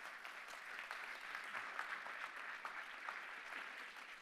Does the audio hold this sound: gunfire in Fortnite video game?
no